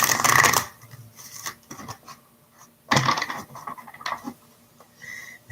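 A tarot deck being cut and shuffled by hand, two bursts of rapid card riffling and flapping separated by softer taps and slides of cards, close and fairly quiet.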